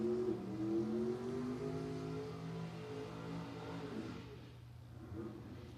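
Drag race cars at a memorial drag strip event roar down the track, a loud sustained engine howl with rising harmonics that slowly fades into the distance over several seconds, with no voices.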